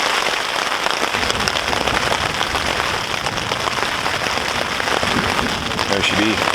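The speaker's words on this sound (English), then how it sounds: "we are chased to our tents with high winds and a big booming thunder storm" Heavy thunderstorm rain pours steadily onto tents and a tarp at a wilderness canoe campsite, a dense continuous hiss close by, with brief voice sounds near the end.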